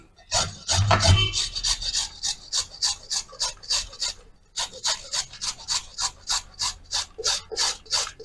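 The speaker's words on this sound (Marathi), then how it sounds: "येथे हळद किसून घेत आहे" Fresh, peeled turmeric root is grated on a hand grater, producing a run of quick, regular rasping strokes, loud and close, with a brief pause midway before the scraping resumes.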